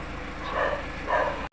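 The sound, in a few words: dogs barking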